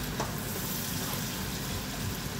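A spice paste for cassava leaves sizzles and fries steadily in a pan, a continuous dense crackle close up with no talking.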